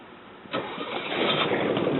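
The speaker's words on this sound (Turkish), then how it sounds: "kayığı yol vermek için ipi çekti" After a brief quiet moment, a small boat engine started by pull rope catches and sputters into a rough, building rumble that keeps running.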